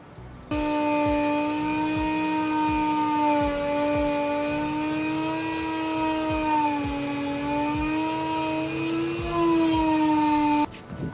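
A rotary tool bit cuts into a DIY camera insert for a gimbal backpack, giving a loud, steady high-pitched whine that starts abruptly, holds for about ten seconds with slight pitch wobble, then stops.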